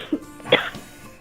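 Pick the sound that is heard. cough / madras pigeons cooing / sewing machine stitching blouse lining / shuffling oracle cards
cough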